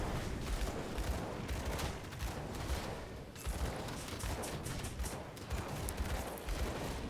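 Gunfire in the action RPG Grim Dawn during a fight with undead in Old Arkovia, a dense continuous barrage of rapid shots mixed with game effects, loud and steady throughout, without talk.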